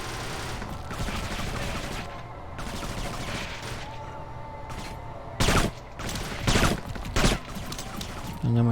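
Gunfire in the Xbox shooter Kane and Lynch 2: Dog Days, with a rattling fusillade of automatic shots followed by several loud, separate bursts over game ambience.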